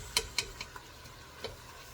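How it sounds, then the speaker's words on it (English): Ground beef cooks in a pan with a faint low background sizzle, punctuated by a few sharp, quick clicks and taps of a scoop-type spatula against the pan. "at this point, you're waiting for the ground beef to be fully cooked"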